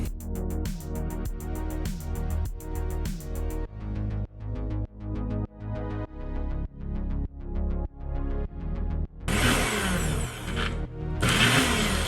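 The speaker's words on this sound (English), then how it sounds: "Next up on the chopping block is our tuna." Tuna is chopped for homemade fish food, with rhythmic, evenly spaced knife thuds on a chopping board, followed by bursts of a loud whirring appliance near the end.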